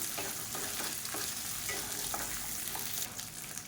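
Red chillies and tamarind sautéing in a pan for chana dal chutney, a quiet, steady sizzle with soft, irregular stirring taps close by.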